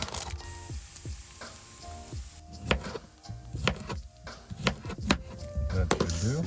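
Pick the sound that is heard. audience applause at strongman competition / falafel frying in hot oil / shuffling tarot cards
falafel frying in hot oil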